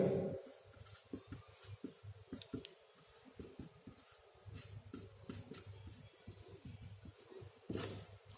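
Pen or marker scratching across paper or a board while a math problem is worked out, with short rubbing strokes in an uneven rhythm, close and quiet, beneath a low hum.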